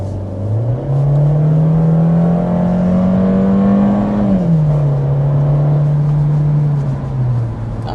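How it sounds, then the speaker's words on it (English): A 2025 Volkswagen Jetta SE engine drones from inside the cabin as it accelerates, its pitch rising, dipping at a downshift, then holding steady, loud and continuous. "You put your foot down, you immediately get that downshift,"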